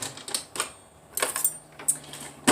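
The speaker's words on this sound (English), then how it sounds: "here's the cabbage, and it's probably at least, I don't know, 2 months old. It's been a while. So I'm just going to cut this up." A knife chops through an old cabbage, roughly two months old, in a home kitchen, giving a few sharp, close cuts spaced irregularly across a quiet background.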